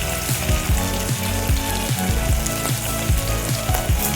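Curry leaves sizzle and crackle steadily in hot oil for a simple curry, a loud, continuous frying hiss with irregular pops close up, no talking.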